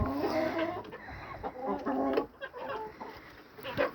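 Chickens cluck in short, irregular bursts at close range, with a steady murmur of other birds behind them and no talking.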